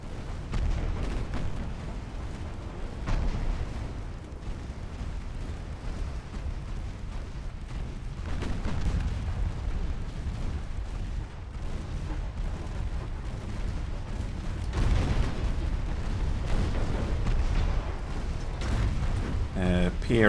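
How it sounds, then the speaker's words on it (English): 2-inch naval guns blast away during a Japanese naval battle in a warship video game, a dense, continuous roar of booming gunfire and rumbling explosions that swells louder in the second half. "Use the 2-inch guns to do most of the damage here."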